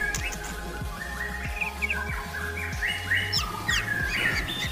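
A white-rumped shama, the murai batu, sings a varied run of bright chirps, whistles and trills, with repeated low knocking sounds underneath at close range.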